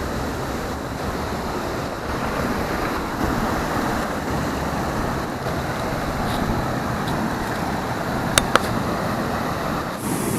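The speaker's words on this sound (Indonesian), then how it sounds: "Kita ada di air terjun yang kedua." A second waterfall in a hidden cave area, roughly ten meters tall, roars with a steady, dense rush of falling water, loud and continuous with a couple of faint clicks near the end.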